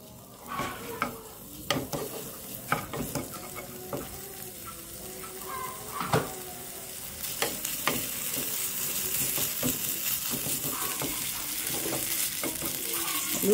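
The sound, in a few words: sautéing spice paste in VCO oil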